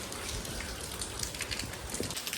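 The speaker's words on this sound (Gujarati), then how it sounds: "ને અત્યારે પાછો વરસાદ ચાલુ થઈ ગયો છે." Steady rain falls on a farm field in Mahuva, Gujarat, a fairly quiet, even hiss of drops with no voices over it.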